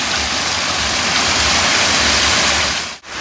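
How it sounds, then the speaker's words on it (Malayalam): A small monsoon waterfall at Parayaruvi roars with a constant, loud rush of falling water, broad and steady, with a brief dip near the end. "ഒരു കുഞ്ഞൻ വെള്ളച്ചാട്ടം, മഴക്കാലത്ത് മാത്രം നന്നായി ആക്റ്റീവായിട്ട് ഉണ്ടാവുന്ന ഒരു കുഞ്ഞൻ വെള്ളച്ചാട്ടം."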